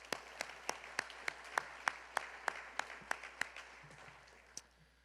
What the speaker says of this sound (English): let's give Len a round of applause